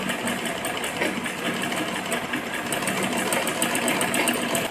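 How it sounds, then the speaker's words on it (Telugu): A sewing machine hums continuously at close range, its needle tapping in a fast, even rhythm while stitching the side seam of a dress being turned into palazzo pants and a top. "సైడ్ స్టిచ్ చేసుకోవాలి."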